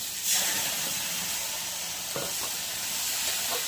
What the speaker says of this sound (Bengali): কাঁকড়াটা একটু মেলে ভাজা করে নিই কাঁকড়ার ঘিটাও দিয়ে দিই